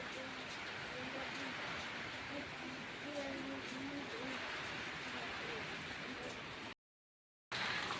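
Steady rain with gusty wind hisses continuously at moderate volume, with a brief cut to silence near the end before the downpour resumes.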